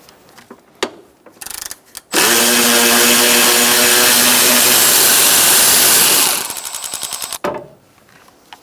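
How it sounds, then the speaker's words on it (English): A ratchet with a 10mm socket spins a nut off a stud on a 2004-2009 Mazda 3 2.3L L4 during a transmission mount job. A few short clicks lead into a long, loud, buzzing power-ratchet run, then a rapid clicking finish. "Using a 10mm socket, we're going to get this nut"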